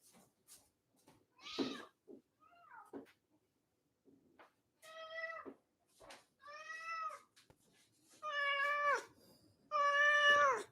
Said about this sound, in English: Everyone's hearing a cat.